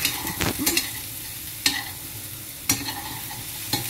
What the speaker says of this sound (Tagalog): Kinukunting ko lamang po siya na pinafry hanggang sa lumambot na siya ng konti